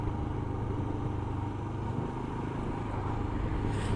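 A Royal Enfield Himalayan motorcycle taking a right-hand bend on roads in the Peak District, a steady engine drone mixed with strong wind rumble for a few seconds, with no talking.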